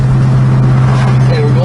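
1967 Dodge Dart driving down the road, a loud steady engine drone with low hum and road rumble heard from inside the car, with a voice talking over it.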